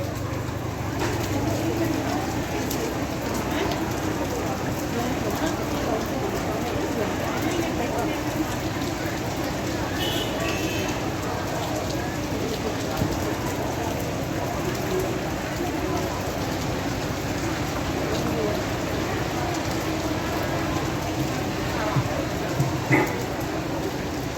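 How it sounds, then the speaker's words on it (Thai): Steady heavy rain pouring down continuously at a Thai temple merit-making ceremony, with a voice talking over it and occasional faint background sounds. "วันนี้ฝนตกดีมากเลย"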